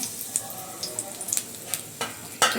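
Cinnamon sticks fry in hot oil in a pan while making paneer masala. A soft, steady sizzle is broken by scattered light pops and crackles.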